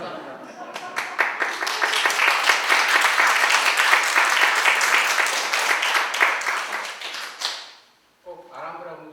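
Audience applause at a literary lecture with a novelist, dense steady clapping from a crowd for about seven seconds that fades out, followed by a brief spoken voice.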